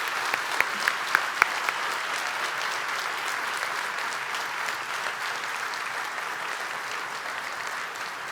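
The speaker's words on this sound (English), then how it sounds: "Please join me in another round of applause for our keynote speaker" Sustained audience applause for a keynote speaker at an antiracism lecture event, a dense, steady clapping crowd filling the room for about eight seconds, with a few sharper individual claps near the start.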